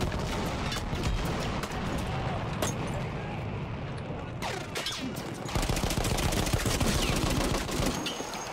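Battlefield 1 combat: sustained heavy gunfire and machine-gun bursts with booming blasts, including a grenade explosion around the middle, loud and dense throughout.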